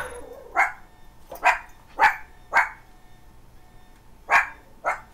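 A dog barks six times in the Alpha Protocol espionage game, sharp separate barks at irregular intervals, fairly close and loud with no speech over them.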